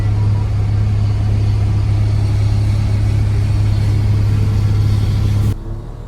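A mining machine's engine runs steadily on a night shift, giving a loud, continuous low rumble that drops off abruptly near the end.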